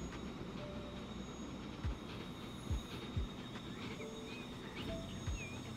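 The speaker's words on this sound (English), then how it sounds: "We've got the iron train just ahead of us. We're going to have to stop, aren't we?" A train rolls along rails in the Train Fever 2 game on a UK map, a steady low rumble with a few short wheel squeals and faint clanks, close and without talk.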